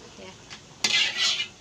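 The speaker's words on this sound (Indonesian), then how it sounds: "Kita panasin minyaknya. Kita tumis bawang putih." Garlic hits hot oil in a pan with a sudden loud sizzle, following faint utensil clinks, the hiss swelling and holding close for a moment.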